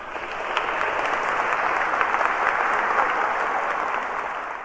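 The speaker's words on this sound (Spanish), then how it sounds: "Démosle un aplauso al Señor." Dense, loud applause from a Catholic church congregation during a religious lesson, a continuous even roar of many hands clapping together without a break.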